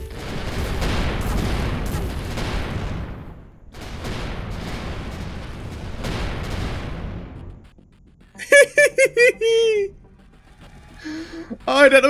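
Ship lasers firing in the space game Avorion, long sustained buzzing beam bursts in two or three extended volleys, followed by someone speaking briefly.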